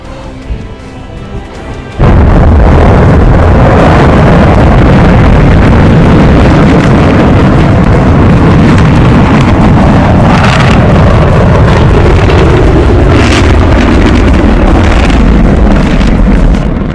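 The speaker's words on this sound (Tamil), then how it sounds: "ஏவப்பட்டது குவைசோ 11 ராக்கெட்." A Kuaizhou-11 rocket launching with two satellites: after a brief quieter lead-in, a sudden, extremely loud broadband roar sets in and rumbles on without letup, buffeted like heavy wind on the microphone.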